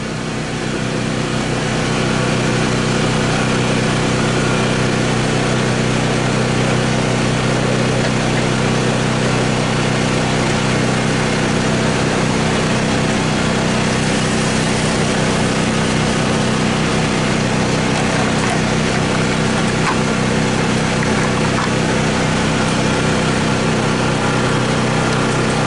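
A washing machine at an outdoor laundromat runs its spin cycle and pumps out water, a loud, steady motor whir and hum that holds on alone with no break.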